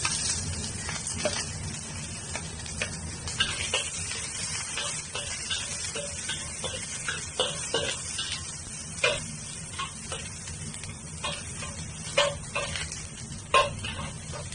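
Young ginger frying in a little oil in a pan for stir-fried beef with onions, a soft continuous sizzle with scattered small crackles and spatula taps, fairly quiet and with no talking.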